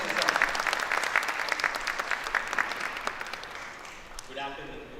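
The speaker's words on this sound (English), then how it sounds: "Let us welcome him with a round of applause" An audience at a university event applauds to welcome a keynote speaker. The dense, lively clapping fills most of the moment, then thins out as a voice begins near the end.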